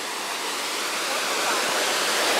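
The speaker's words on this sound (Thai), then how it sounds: "ฟังเสียงน้ำตกครับ" Waterfall in southern Laos, a continuous, full roar of cascading water that swells slightly over a couple of seconds, heard alone and close.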